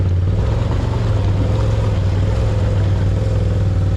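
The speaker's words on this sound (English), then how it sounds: "Just spin the tires a little bit." An off-road vehicle's engine drones loud and steady up close while its tires spin, a continuous rumbling roar with no breaks.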